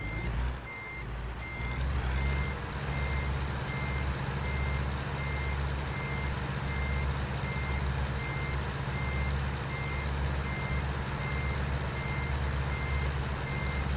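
Reversing beeps from a truck in American Truck Simulator, Washington map, a steady repeating alarm over a loud low diesel rumble, continuous and close for the whole stretch with no talking.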